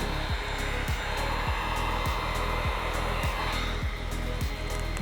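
A heat gun blows hot air onto vinyl wrap film on a Cybertruck panel, making a steady, close whooshing roar with a faint rhythmic motor pulse underneath.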